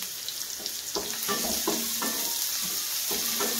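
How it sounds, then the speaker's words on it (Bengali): Onions frying with a pinch of salt in a pan, a steady close sizzle broken by repeated scraping stirs about every half second. "পেঁয়াজটা খুব ভালো করে এখন ভাজা ভাজা হোক"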